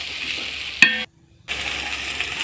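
Onions and green chillies sauté in a pan for chicken biryani, a steady close sizzle broken by a sharp metallic clink and a brief moment of silence before the frying resumes.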